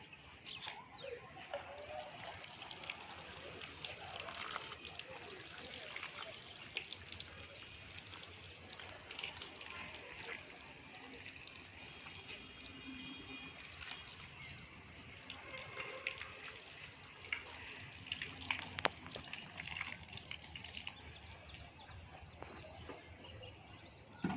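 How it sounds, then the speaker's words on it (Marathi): Water poured over newly planted tomato seedlings, a soft, continuous trickling and splashing heard at low level, with birds calling faintly in the background. "तर आता आपण यांना प्रत्यक्ष पाणी आता घालूया."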